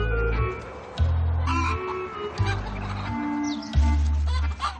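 Hens at a poultry farm cluck and squawk loudly and close by, a busy overlapping flock with several sharp calls standing out over a constant low rumble, with no one talking.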